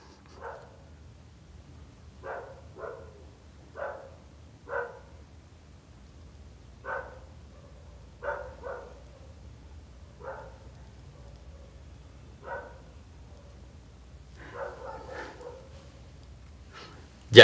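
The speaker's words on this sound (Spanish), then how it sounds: "Pinche perro." A dog barks in short, sharp bursts, roughly a dozen separated yelps spread irregularly over the stretch, heard from a distance at low level in an otherwise quiet room.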